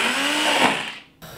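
An electric blender purees Dutch brown bean soup, whirring loudly and continuously up close before the motor cuts out and briefly winds down.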